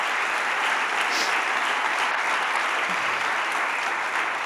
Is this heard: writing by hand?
no